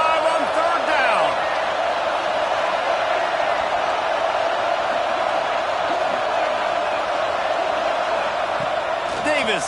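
A stadium crowd roars for the Buckeyes in a Madden video game, a loud steady wall of cheering that holds throughout, with a faint commentary voice beneath it.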